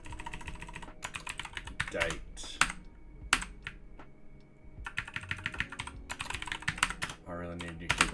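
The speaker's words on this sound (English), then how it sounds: "This keyboard is really struggling, really struggling." Bursts of rapid clattery typing on a worn-out, struggling computer keyboard, close up, with short pauses between flurries and someone speaking briefly in between.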